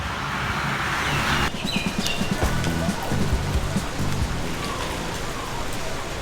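Steady heavy rain hissing down, with a denser wash early on and scattered drips and taps on a nearby shed surface throughout.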